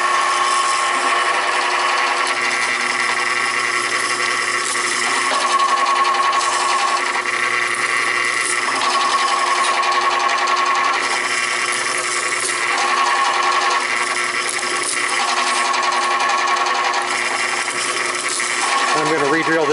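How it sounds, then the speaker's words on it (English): A drill whines steadily and continuously, a high buzzing motor sound with small changes in pitch as it cuts larger holes in a speaker crossover build. "Now I'm going to drill out the larger holes."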